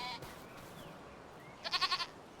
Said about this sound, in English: this I think is a newborn goat